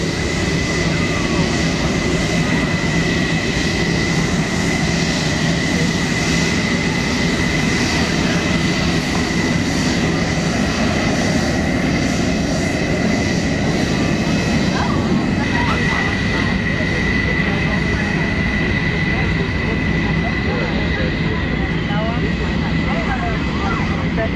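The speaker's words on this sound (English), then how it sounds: "We have I got 2 Hornets coming in here in an attack profile." Two Hornet jets approaching at an air show, a loud continuous roar of jet engines that swells and fills the whole stretch, with a crowd and voices faintly underneath.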